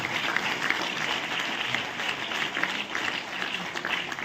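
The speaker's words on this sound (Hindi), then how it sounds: "तालियां जोरदार बजती रहें, आपके हौसले की तालियां।" Steady, dense audience applause fills a public ceremony honouring international sports medal winners, a continuous rush of many hands clapping at moderate loudness without speech over it.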